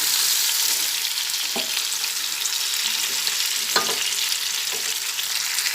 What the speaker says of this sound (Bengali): একটু লাল লাল করে ভেজে নেব আলু আর পটল